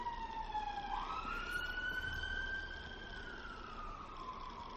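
A siren wails in the distance, heard through an open window, its pitch sliding up and holding, heard faintly through background hum with no voices.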